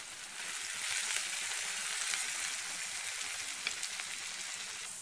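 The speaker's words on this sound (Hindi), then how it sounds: "देखिए तो तड़का कितना अच्छा लग रहा है।" Spices for a dal tempering sizzle steadily in hot oil in a pan, a constant crackling hiss with tiny pops, close and fairly quiet, no voices.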